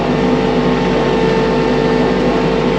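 A new tractor's engine runs hard and steady while lifting heavy oak and cherry logs, a loud, close, constant mechanical drone with no change in pitch and no voices.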